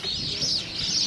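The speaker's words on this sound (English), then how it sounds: "Oh, ducks." Ducks call from a Kakadu wetland where crocodiles are in the water, a continuous busy chorus of quacks and chatter, loud and close, with no talk over it.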